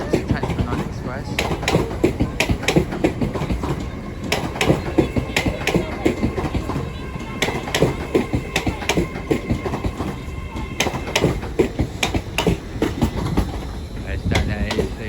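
A passenger train led by unit 807001 moving through Crewe station on the West Coast Main Line, with a steady rumble and repeated rhythmic wheel clicks on the rails throughout, loud and close.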